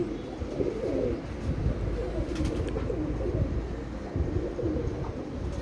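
Low, rolling cooing from a pigeon kept as a strong flyer carries on without pause, close and fairly loud, while faint brief chirps flicker in the middle.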